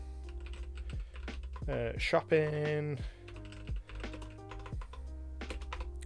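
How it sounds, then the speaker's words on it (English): Keys on a new computer keyboard clatter in quick, irregular runs of typing under music or tones, with a brief spoken word partway through. "I have a new keyboard, I'm still not used to it."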